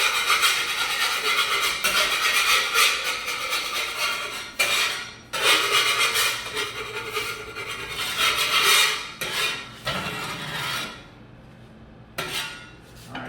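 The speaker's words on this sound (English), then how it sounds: "I'm going to scrape this clean real quick." A metal scraper scrapes across a hot griddle after cooking burger patties, in repeated strokes, harsh and raspy, with brief pauses between passes and no talking.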